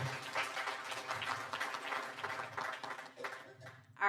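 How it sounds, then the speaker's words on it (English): Audience applause at a local Kansas news event, a moderate round of clapping heard somewhat distantly, continuing evenly before thinning out and fading near the end. "a round of applause for Harvey County Now."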